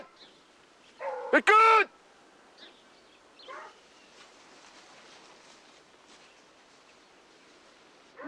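Fauve de Bretagne hunting dogs baying in a rabbit hunt, one loud nearby bark burst followed by a fainter distant cry, with a brief spoken word and quiet outdoor background.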